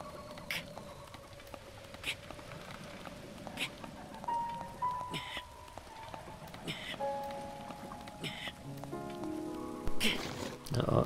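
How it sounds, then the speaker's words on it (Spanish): Rain falls in the video game Zelda Breath of the Wild as a steady soft patter of drops, with faint tonal music notes drifting underneath and a few sharper ticks, quiet throughout. "¿Se empieza a llover? Parece que sí."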